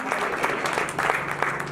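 Church congregation claps together in a sustained, even patter of many hands, with a faint voice and crowd murmur underneath; a brief, moderately loud burst throughout.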